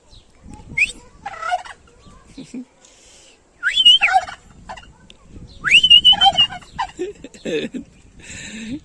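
A white turkey at a zoo gobbles in several loud, rattling bursts, with a person's voice calling out to it between the calls and the bird answering back.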